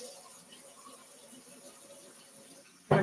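A kitchen tap runs steadily into a sink while waiting for the water to get hot, a low continuous wash ending in a sudden loud clatter.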